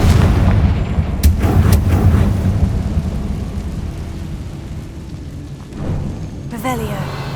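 A Confringo blasting spell explodes in Hogwarts Legacy, a heavy booming blast with a rumbling tail that fades over several seconds, ending in sharper crackling bursts near the end.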